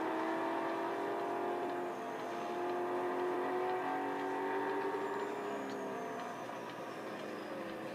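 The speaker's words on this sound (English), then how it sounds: "that whirring sound just sounds so cool. I just seem to like the electricity noise from a car" Electric whir of a Koenigsegg Regera racing at Suzuka in Real Racing 3, a steady, loud, continuous motor tone with rising and falling pitch over engine and road noise, with no talking.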